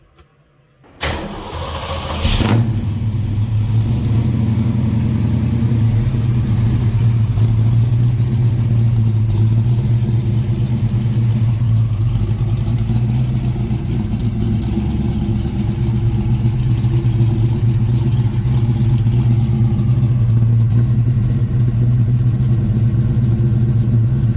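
A classic car's engine cranks and catches, then settles into a loud, steady idle that drones on evenly without any talking.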